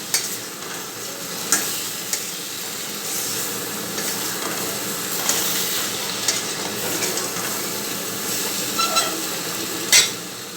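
Okra fries in a pan with a steady, close sizzling hiss, broken by occasional sharp scrapes and taps of a spatula as it is stirred.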